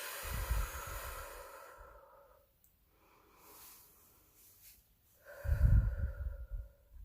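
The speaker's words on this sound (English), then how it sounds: "Take a couple deep breaths." Slow, deep breaths during a guided relaxation, each loud airy inhale or exhale lasting a couple of seconds, separated by a long quiet pause, close to the microphone with no talking.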